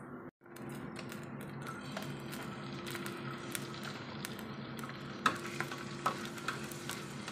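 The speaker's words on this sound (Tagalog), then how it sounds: "Inuna ko yung bawang guys na nilalagay sa ating pagigisa." Garlic sizzles in a hot pan while being sautéed as the base for Bicol Express, giving a steady frying hiss with a few sharp clicks and taps of a utensil against the pan near the end.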